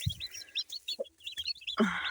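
Hen and chicks in a village yard: high, thin chick peeps repeat in quick bursts while a few low hen clucks sound close by, with no talk.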